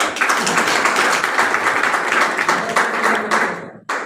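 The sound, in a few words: loud audience applause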